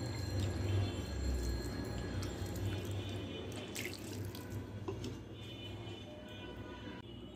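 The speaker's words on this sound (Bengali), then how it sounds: "একটুখানি পানি দেব" Water poured from a tap into a bowl of grated coconut and sugar for a sweet Bengali pancake filling, a steady continuous running stream heard close and alone without talk.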